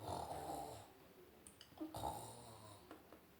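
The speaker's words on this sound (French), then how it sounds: "le bourdonnement des moteurs est en réalité le ronflement de Crapauteau qui s'est endormi profondément" A sleeping character named Crapoto snores deeply, drawing long rasping breaths with a snort near the middle, quiet and close, with no voices.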